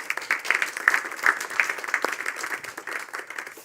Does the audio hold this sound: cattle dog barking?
no